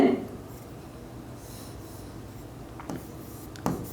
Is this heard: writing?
yes